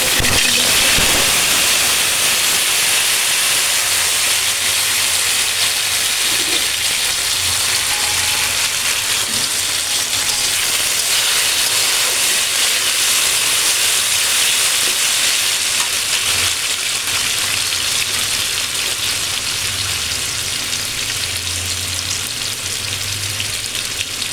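Mustard oil crackles and sizzles loudly in a kadai before hilsa fish goes in, a dense, continuous frying hiss heard up close for the whole stretch without voices.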